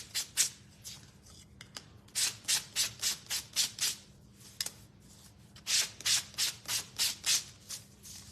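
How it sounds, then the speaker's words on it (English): Sandpaper rubbing on small wooden pieces from a bunny couple DIY kit, close rhythmic back-and-forth strokes in quick bursts with short pauses between. "let's sand them up just a little bit"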